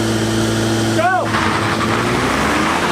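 Toyota Camry TRD and Mazda6 launching side by side in a drag race, a steady engine drone with a brief rising whine near one second, loud and continuous with no talk.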